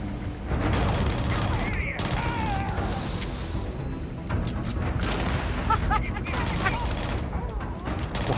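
Gunfire and explosions from the Starfield video game make dense, continuous crackling bursts and booms, with people talking over the combat throughout.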